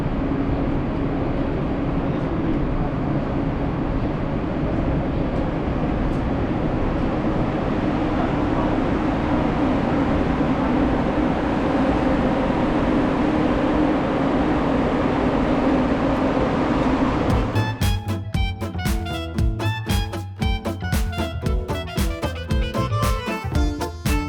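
Aria Express tram in Las Vegas rolling along with a steady, loud rumble and hum for most of the ride, changing near the end to a sharp, rhythmic clattering.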